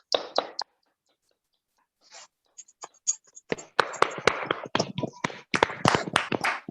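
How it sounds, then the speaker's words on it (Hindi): Scattered claps from participants in an online women's health session, sparse at first, then a denser run of uneven hand claps from several people, close and fairly loud. "इस शानदार सेशन के लिए जोरदार तालियां सुनील सर के लिए"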